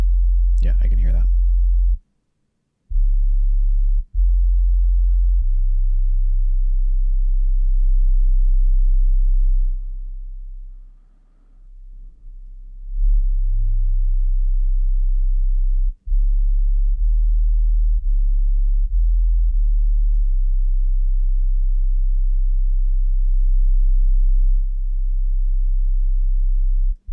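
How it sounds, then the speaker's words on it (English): A steady 40 Hz sine test tone, a deep low hum holding at one pitch for most of the span with a couple of brief dropouts; a short burst of other sound appears near the start. "Okay, well, I can hear 40 hertz."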